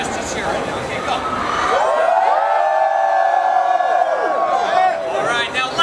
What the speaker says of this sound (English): Just a cheer right now.